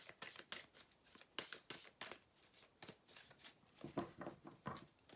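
Tarot cards being shuffled and drawn, producing a close, soft series of quick papery riffles and flicks in an irregular rhythm, faint and alone.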